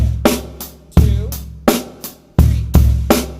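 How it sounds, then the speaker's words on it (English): A drum kit plays a fill, loud booming drum hits in an uneven rhythm with crashing cymbal wash between them, close and without talk. "number 3 as a drum fill, it would sound like this"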